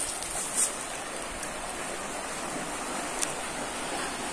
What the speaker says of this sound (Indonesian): di bawah ini adalah aliran Sungai Elo